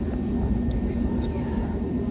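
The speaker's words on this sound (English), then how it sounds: "We are taxiing." Rumbling engine drone of a British Airways passenger jet taxiing before takeoff on a London flight to Newcastle, a steady, loud low roar heard from inside the cabin with no break.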